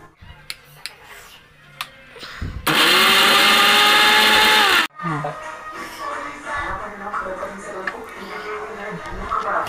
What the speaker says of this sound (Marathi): त्यासाठी मी अद्रक, लसूण, खोबरं, कोथिंबीर आणि 2-4 चवीसाठी हिरव्या मिरच्या आता हे मी मिक्सरमधून